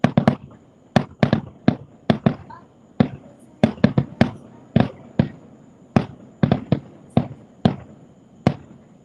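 Happily Ever After fireworks at Disney World, heard from a house's top floor, boom in a series of sharp distant bangs, irregularly spaced with short echoing tails, and nobody speaking.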